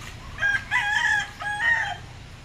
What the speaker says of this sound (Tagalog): isang manok guys, oh